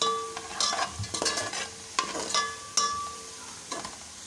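Onions frying in a pan, turning golden to brown, with a continuous close sizzle broken by repeated scraping stirs of a spoon against the metal, no talking.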